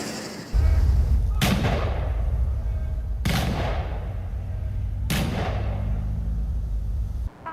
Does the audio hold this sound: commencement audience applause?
no